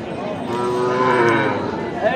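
A Gir breed bull at a cattle market lets out one loud, drawn-out, close moo with a rich harmonic tone that holds for about two seconds against a busy background.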